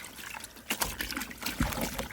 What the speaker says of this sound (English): I'm just gonna dunk it in this water.